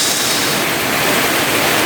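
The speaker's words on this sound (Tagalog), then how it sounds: "Grabing ulan guys." Heavy rain pours down on a rainy morning near an avocado tree, a dense, loud, unbroken hiss filling the air with no voices.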